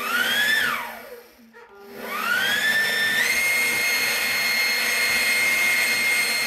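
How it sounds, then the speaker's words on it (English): A Ryobi 40 volt battery-powered leaf blower whines loud and close, spools down nearly to silence, then ramps back up to a steady high-pitched roar. "Now I'm just going to test it with this leaf blower."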